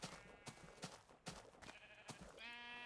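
Several sheep bleat from a Minecraft Beta 1.7.3 world, close and fairly loud, in a rhythmic series of short calls with steady game ambience behind them and no talking.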